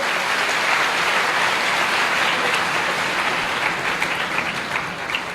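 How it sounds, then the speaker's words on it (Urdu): Steady, dense applause from a church congregation during a sermon, many hands clapping at once without a break, loud and close throughout. "خدا کے جلال کے لیے ہم تالیاں بجائیں گے۔"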